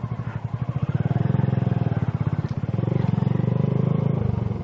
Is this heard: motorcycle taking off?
yes